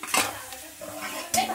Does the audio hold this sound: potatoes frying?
yes